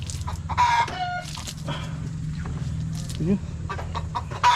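Chickens cluck and squawk inside a coop on a small Philippine poultry farm, with a rooster's call among the close, busy calls and someone speaking briefly over them.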